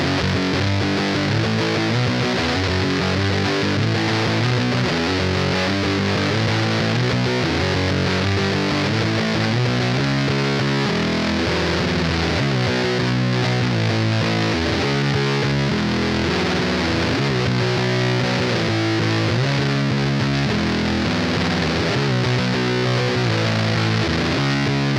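An electric guitar plays through an op-amp version of the Big Muff distortion pedal, giving a thick, saturated fuzz. Dense chords ring continuously and loudly throughout, with no talking.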